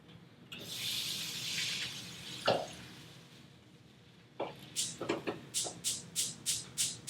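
Water poured into a hot skillet for vegan stovetop eggplant, a hissing sizzle up front, a sharp knock, then a run of rhythmic watery splashes and drips toward the end.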